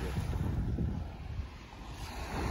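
Sea waves at a beach in Marsa Alam, a steady wash of surf mixed with heavy wind buffeting the microphone, continuous and fairly faint, with no talking.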